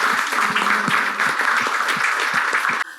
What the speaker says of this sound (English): us just warmly applaud them for their time